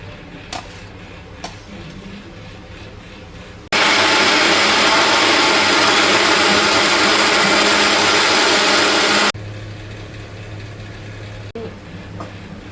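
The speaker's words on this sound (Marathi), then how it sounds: "थोडं थंड करून घेऊन मिक्सरमध्ये वाटून घ्यायचं." A mixer grinder grinds a cooled masala mixture for red chilli chicken. Its loud, steady whir starts abruptly, runs for about five seconds and then cuts off, with quieter kitchen background before and after.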